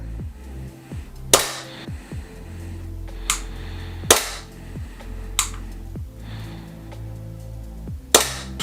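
An HFC Glock 17 custom airsoft gas blowback pistol fires single shots, four sharp cracks spaced a couple of seconds apart, each with a slide snap, while quieter handling sounds come in between.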